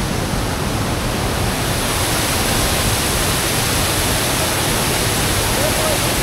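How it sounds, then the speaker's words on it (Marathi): The large Bhivpuri waterfall near Mumbai gives a continuous, dense roar of falling water, loud and unchanging from start to finish. "बघू शकता मागे खूप मोठा धबधबा आहे."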